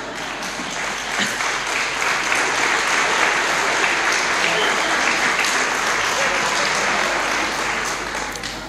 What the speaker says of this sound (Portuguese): peço a todas as pessoas que aqui estão para me darem palmas só com uma mão